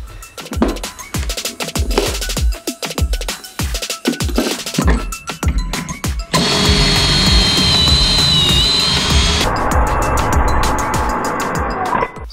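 A power drill bores angled pocket holes through a Kreg pocket-hole jig into wood, a loud steady whine with a shifting pitch lasting several seconds, preceded by clattering handling noises and short taps.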